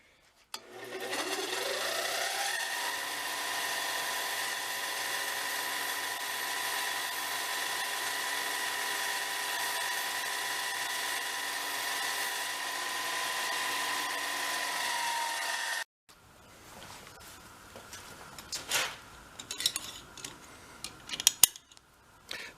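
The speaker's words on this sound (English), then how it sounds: "I'm going to go clean the threads up on a wire wheel" A bench grinder motor spins up and hums steadily with a rising whine for about fifteen seconds while a wire wheel cleans bolt threads. It shuts off, and then come scattered clanks and small metallic handling noises.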